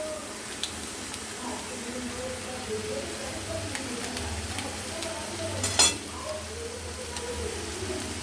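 Turmeric and Kashmiri chili powder with a splash of water are stirred and sautéed in a pan, giving a soft, continuous sizzle with scraping stirs and an occasional light clink of the utensil.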